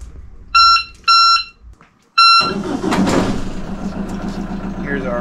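Victron Orion-Tr smart isolated DC-DC battery charger gives three short, loud, evenly spaced electronic beeps, then a vehicle engine cranks and catches, settling into a steady loud idle rumble.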